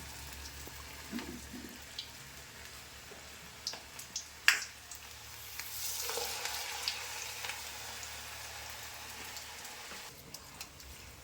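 Onion pakoda batter frying in hot oil, a soft steady sizzle with faint crackles and a few small clinks, fairly quiet throughout and alone without talk.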